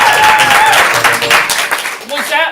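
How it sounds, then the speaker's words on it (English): Loud audience applause and cheering at an improv comedy show, a dense sustained wash of clapping with crowd voices mixed in throughout. "Was that level of applause you just got good enough"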